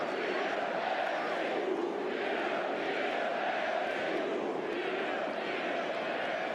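A near sold-out stadium crowd in the capital roars in celebration after a football goal, a loud continuous wall of massed cheering and shouting from thousands of fans with no break.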